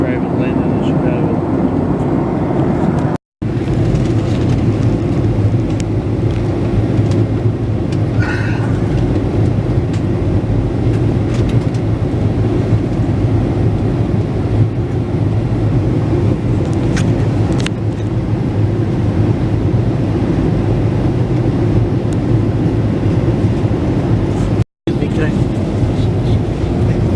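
An airplane landing in Chicago gives a steady, loud, low engine and cabin roar that runs without a break, with people talking over it.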